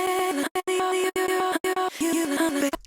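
Chopped vocal stabs from the Easy Chops plugin play alone in a quick rhythmic pattern, bright pitched syllables cut by abrupt short gaps, loud and close.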